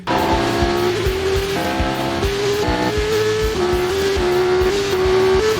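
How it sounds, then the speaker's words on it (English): Cars racing hard in a movie car chase, with loud continuous engine roar, rising gear-change pitch sweeps and screeching tire squeals throughout. "He tries driving out off the track, but Natalie chases him"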